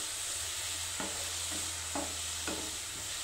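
Grated carrots sautéing in homemade ghee for carrot halwa: a steady, close hiss of frying with a few soft stirring strokes breaking through at intervals.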